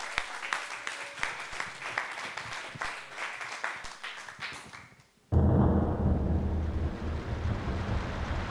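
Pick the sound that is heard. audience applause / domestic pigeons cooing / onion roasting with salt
audience applause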